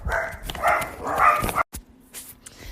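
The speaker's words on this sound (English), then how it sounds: "my dog started barking like crazy" A dog barks several times in quick bursts, fairly close, then a brief silence and a softer whimpering sound.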